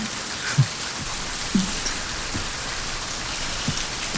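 Steady rain falls continuously, a dense hiss with a few soft drips and thuds standing out now and then.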